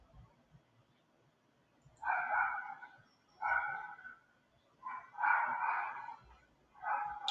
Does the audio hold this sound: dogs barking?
yes